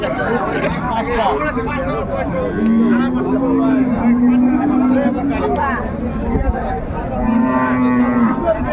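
Cows and calves at the Raniganj cattle market moo loudly and repeatedly, their long lowing calls rising over a steady babble of crowd chatter and nearby voices.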